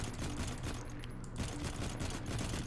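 Sustained burst of rapid gunfire in the futuristic shooter video game Firefall, dense and continuous across the whole moment, loud and alone without talk.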